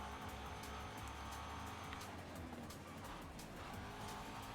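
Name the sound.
car braking hard in Forza Horizon 5 video game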